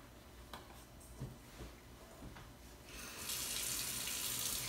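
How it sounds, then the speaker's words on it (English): Tap water runs steadily into a container, growing into a brighter, louder hiss as it fills, with a few faint knocks early on. "I'm going to fill this up with some tap water and give this plant a good soak"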